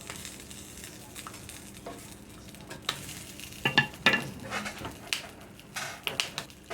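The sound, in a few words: peppers frying in a skillet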